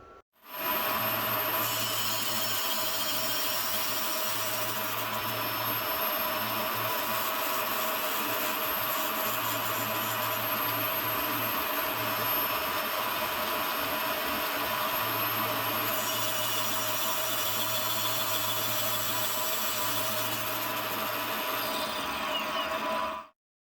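A flap wheel grinds a taper on a metal part for a Caterpillar pony motor starting rope handle, a loud continuous abrasive whine with a steady high hiss and faint wavering hum throughout.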